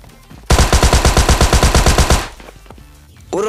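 Loud, rapid pistol fire in PUBG Mobile Lite gameplay: a single sustained burst of quick, evenly spaced shots lasting nearly two seconds, then quieter game sounds.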